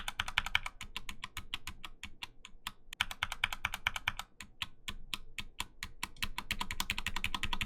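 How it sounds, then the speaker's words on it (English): Rapid, steady typing on an Akko keyboard fitted with Sakura keycaps, a dense run of crisp key clacks with a brief pause partway through and no voices. "I'll include a sound test right here of those keys on the Akko compared to the general keys."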